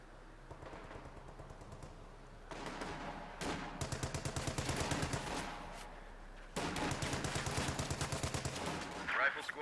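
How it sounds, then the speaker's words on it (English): Video game MG34 machine gun firing on riflemen: repeated bursts of rapid automatic fire with sharp close cracks, separated by short pauses, under a steady low battle rumble. "MG34 firing on these riflemen"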